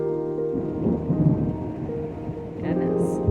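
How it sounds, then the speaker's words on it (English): Low rolling thunder rumbling through a rainstorm on a rainy day, a deep sustained grumble under a steady wash of rain, with no talking. "we're really getting that thunder now."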